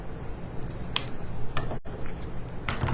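Scissors snip through ribbon loops in a few crisp, separate cuts over a quiet background.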